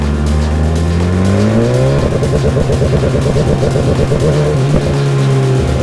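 A BMW S1000RR motorcycle engine revving in pit lane mode, its loud, close, buzzing note climbing in pitch, then holding a rapid limited warble before dropping back, at a car meet.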